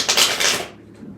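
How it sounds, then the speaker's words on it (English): Tarot and oracle cards mixed together in one pile are shuffled by hand, a short, loud, close papery riffle that fades within about a second. "you like to see that I'm shuffling live"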